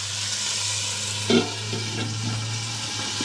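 Tandoori chicken pan-frying under a lid, a soft steady sizzle with a low hum beneath and one brief clatter partway through.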